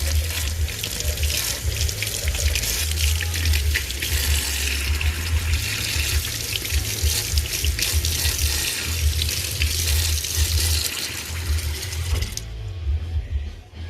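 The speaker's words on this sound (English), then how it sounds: "turn on warm water" Water runs steadily from a tap into a sink, a continuous splashing rush that carries on unbroken for several seconds before cutting off.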